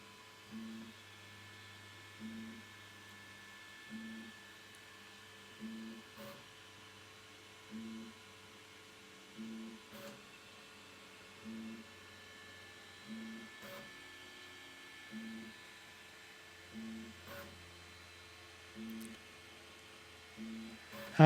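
Elegoo Centauri Carbon 3D printer running its pre-print calibration, giving a steady low hum broken by short, evenly spaced mechanical pulses about every second and a half, with faint background hum throughout and no talk.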